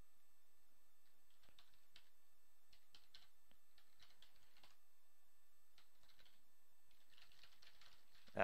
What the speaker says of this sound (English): I don't know what code I was typing in.